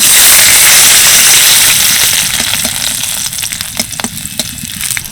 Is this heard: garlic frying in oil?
yes